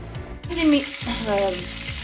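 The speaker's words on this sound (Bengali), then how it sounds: "সেগুলোকে পাঁচফোড়ন দিয়ে চাপিয়ে দিলাম, নুন দিয়ে দিলাম" Chopped Malabar spinach stems, potato and eggplant frying with panch phoron and salt give a steady close sizzle, broken by a couple of quick stirring knocks in the pan.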